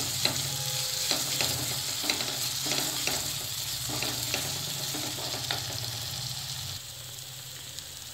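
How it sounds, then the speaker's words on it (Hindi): Ground chili, coriander and spices sizzle and fry in a pan of oil for chole masala, a steady close crackling hiss with frequent stirring scrapes throughout, no talking. "इसको थोड़ा सा भूनना है।"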